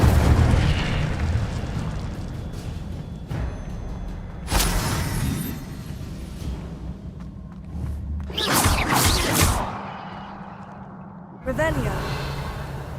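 The Incendio fire spell cast in Hogwarts Legacy, with several loud bursts and whooshing flame blasts over a rumbling combat backdrop, separated by quieter stretches, and a voice speaking in places.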